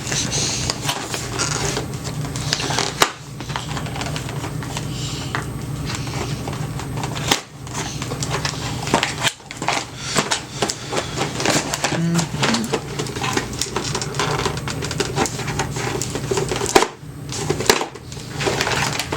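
Cardboard and plastic packaging of a Nerf Barrel Break IX-2 double-barrel blaster being opened, with continuous close rustling, tearing and scraping punctuated by sharp clicks and thumps.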